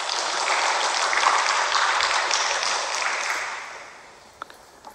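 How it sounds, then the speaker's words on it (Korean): A church congregation gives a round of applause, a dense, even wash of clapping that holds steady and then fades away, ending with a couple of last isolated claps. "박수 한번 쳐주세요"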